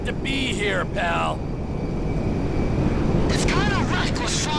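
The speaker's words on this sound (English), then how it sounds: "It's kind of reckless flying that big plane so low" A large plane flying low in the video game GTA 5, a broad steady engine roar that holds throughout under talking voices and radio chatter.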